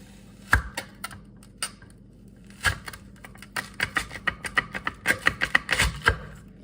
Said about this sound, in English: So I will place the root right over the center of the veggie wedger and just cut down